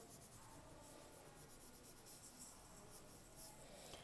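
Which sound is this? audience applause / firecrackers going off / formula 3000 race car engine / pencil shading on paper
pencil shading on paper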